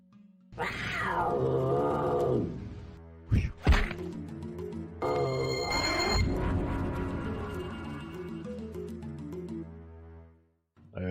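Giant cats in a temple passage of the Ravenloft: Stone Prophet game give long, drawn-out yowling roars with sweeping pitch, broken by a couple of sharp thuds, then a sustained tonal growl fading out near the end.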